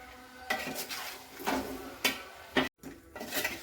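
A spoon scrapes and clatters against a pan while chili powder is mixed into mango pickle, giving a few distinct metallic strokes over a low, steady background with no talking.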